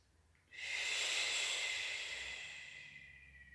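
Deep breath during a Pilates exercise, one long close, breathy inhale that starts abruptly and slowly fades over about three seconds.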